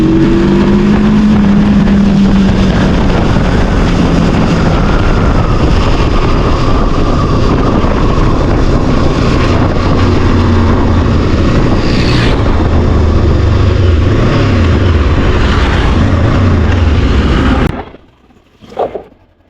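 A VOGE 525 DSX motorcycle pulls hard in second gear, its engine drone rising steadily under heavy wind rush for a long stretch, then dropping away abruptly near the end.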